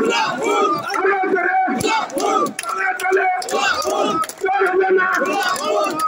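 A large crowd at a Zaker Party political rally in Chaugachha roars the takbir chant in unison, loud rhythmic massed voices rising and falling in repeated waves with only brief dips between shouts.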